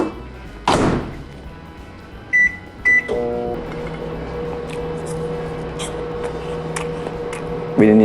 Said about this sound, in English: So I'm gonna turn on the microwave now and not talk